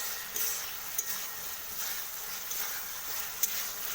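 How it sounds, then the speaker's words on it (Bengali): Chatu jhal being stirred after mustard oil is added, a faint hissing sizzle with a few light taps of the spoon against the pan. "তো একটু সরষের তেল দিয়ে দিয়েছি, এটাকে একটু ভালো করে নাড়িয়ে নেব"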